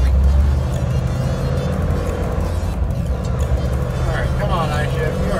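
Heavy truck engine with an iShift automated transmission, droning loud and steady as it holds a gear too long under moderate throttle, with someone talking over the rumble.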